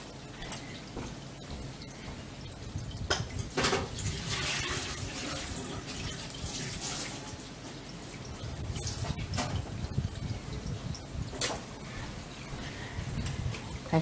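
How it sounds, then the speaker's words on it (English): Soapy water sloshes and pours steadily out of a glass French press plunger pot holding soiled cloth menstrual pads, a close, continuous splashing and trickling stream with a few louder gushes and drips. "I'm just going to tip this water out"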